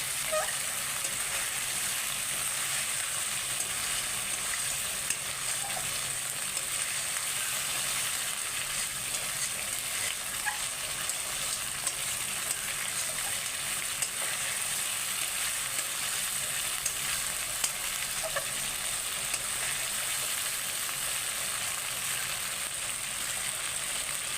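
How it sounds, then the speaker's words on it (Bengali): Spices sizzle steadily in a pan with garlic, dried red chillies and tomato for an egg curry, a soft, constant frying hiss with faint occasional pops and no voices. "মশলা আমার খুব ভালো করে ভাজা হয়ে গেছে"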